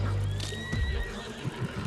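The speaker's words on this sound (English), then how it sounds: "Get the horse out of here" A horse neighs in a fantasy drama, a loud rising whinny with wavering tones, followed by hoof clatter and low rumbling under the scene.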